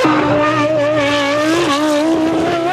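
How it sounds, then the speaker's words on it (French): A Renault Espace F1 with a ten-cylinder racing engine screams along the Mistral straight, a loud, sustained high-pitched wail with a slight pitch dip as it shifts, heard close and alone. "seul compte le chant du 10 cylindres dans la ligne droite du Mistral"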